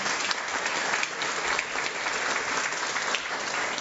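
Sustained applause from an audience at a community health talk on prostate cancer, a dense, steady clapping that stays loud and even for the whole stretch with no voices over it.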